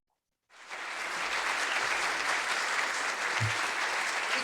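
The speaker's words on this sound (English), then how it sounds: "Can we give her a round of applause?" Applause for an honoree at a Cheektowaga Chamber of Commerce annual gathering breaks out after a brief silence, a steady wash of many hands clapping from a sizable crowd, sustained and even throughout.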